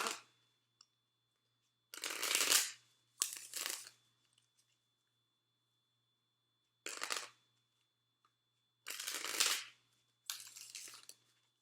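Five bursts of tarot cards being shuffled, crisp riffling rustles spaced apart with quiet gaps between, close and fairly loud, no talking.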